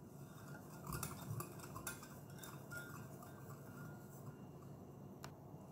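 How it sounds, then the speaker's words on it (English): A utensil stirs warm milk and sugar in a bowl for donut dough, giving soft, close clinks and scraping with a few sharper taps against the container, steady and quiet with no talking. "And stir it."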